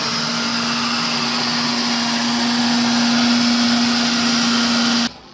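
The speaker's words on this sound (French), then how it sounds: "Ça va faire un peu de bruit parce que on passe au mélangeur." A blender whirs with a steady, loud motor hum and a noisy grinding wash for about five seconds, then cuts off abruptly.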